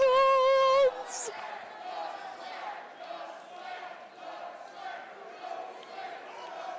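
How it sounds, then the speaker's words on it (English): Wrestling crowd at a live event chanting "Coke Slam" in a steady rhythmic roar, following a brief loud tone, the chant filling the arena continuously at moderate distance. "this crowd is chanting Coke Slam already"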